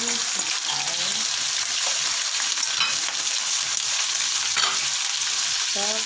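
String beans (sitaw) frying in a pan, a steady loud sizzle with stirring clatters throughout, no voices over it.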